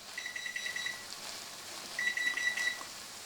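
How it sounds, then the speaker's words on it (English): A kitchen timer goes off while peas cook, sounding two bursts of rapid high-pitched beeping about a second apart, clear and fairly near in an otherwise quiet room. "that's the timer for your peas"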